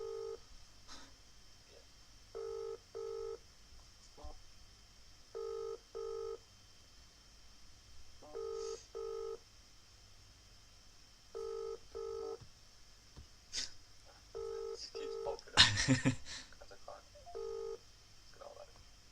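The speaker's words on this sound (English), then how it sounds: "try ringing the group chat" A phone dialing out to a group call during a live stream, with repeated pairs of ringback tones at a steady rhythm throughout, faint background hum, and brief talk and clatter near the end.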